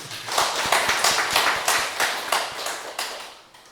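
A church congregation claps together in a steady, rhythmic beat, about a dozen sharp, even claps that fill the room before trailing off.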